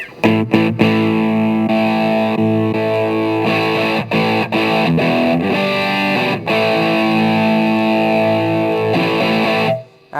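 A loud, heavily distorted electric guitar through a Fender Mustang LT 25 amp on a distortion setting plays sustained chords with a few abrupt cuts and restarts, gritty and saturated, then stops near the end.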